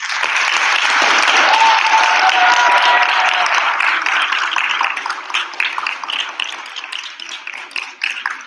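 An audience applauds steadily at a live Bharatanatyam arangetram. The dense clapping is loud and sustained, then gradually thins and fades toward the end.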